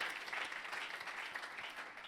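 A church congregation claps for the Lord at a worship gathering, a soft, distant wash of crowd applause lasting about two seconds.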